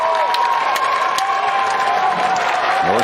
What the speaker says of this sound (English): The crowd's starting to get into it.